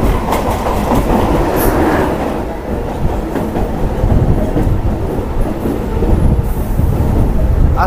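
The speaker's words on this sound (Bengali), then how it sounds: "আমাদের ট্রেন পোড়াবাজার ছেড়ে বেলমুড়ির দিকে এগোচ্ছে পরের স্টেশন" Local train on the Howrah–Bardhaman chord line pulling out of Porabazar station, a steady loud clickety-clack of wheels and carriage rumble running throughout, heard from inside the coach with a brief squeal.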